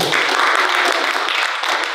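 Audience applause at a video game conference talk, a loud, dense wash of clapping from a crowd that fills the whole stretch without pause.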